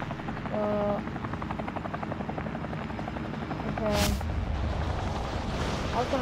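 Steady chopper rotor hum in a battle royale shooter game, continuous and fairly close, with brief game beeps and a short burst of noise midway.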